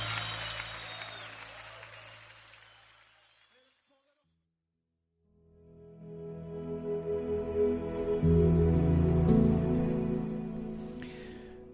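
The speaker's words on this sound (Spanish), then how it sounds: "Levanta tu aplauso a Él fuerte." Church congregation applauding during a sermon on Psalm 7, building from silence into loud, sustained clapping with a musical drone or keyboard underneath, after an earlier stretch of applause that fades out.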